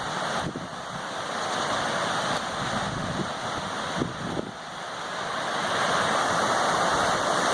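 A river rushes over rocks along the Appalachian Trail, a steady, full broadband roar of flowing water that holds constant throughout, with no voices.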